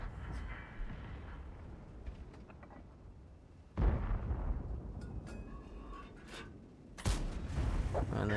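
GSOR tank firing its cannon in a tank video game, two heavy booming shots with long rumbling decays over engine and battle noise.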